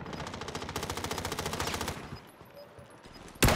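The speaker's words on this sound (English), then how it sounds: "I'm just shooting whatever I can." Sustained automatic gunfire from a Call of Duty: Modern Warfare match, a fast steady rattle of shots for about two seconds, then a quieter lull before a sharp loud burst at the end.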